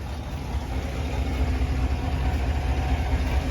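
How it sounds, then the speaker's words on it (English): A Chevrolet Silverado 1500 Trail Boss pickup with a 6.2L V8 idles nearby, a steady, deep, even rumble held throughout with no one speaking. "Truck sounds good. I've got it running."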